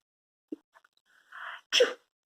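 A single sneeze with a sharp intake of breath leading into a loud, explosive burst, close and alone with no other sound around it.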